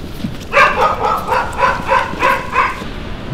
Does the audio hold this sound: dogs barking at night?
yes